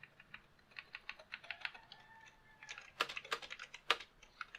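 Typing on a Cherry MY-8000 keyboard with scratchy, mushy membrane-backed switches gives quick, close, fairly quiet keypress clicks in uneven bursts, a few strokes landing harder near the end.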